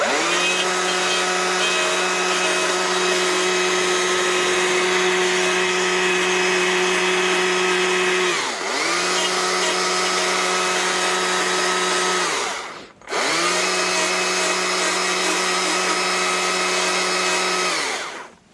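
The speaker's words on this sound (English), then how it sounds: "we should round some things off first with the chainsaw" A chainsaw runs continuously at high revs while rounding off the hard edges of a wood carving, a loud, steady buzzing whine with a few brief dips in pitch as the bar bites, then a short cut-off before it resumes.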